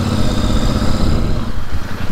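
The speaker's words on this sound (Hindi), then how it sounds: "इसका इंजन ऐसी साउंड लग रहा है जैसे अपना इंटरसेप्टर है उसकी तरह साउंड कर रहा है" Royal Enfield Super Meteor 650 motorcycle engine running steadily nearby, a continuous loud low throb with no speech over it.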